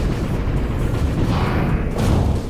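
Flak cannon fire in the video game Overload, a dense, continuous low rumble of heavy blasts and booms filling the whole stretch at steady loudness, with no talking over it.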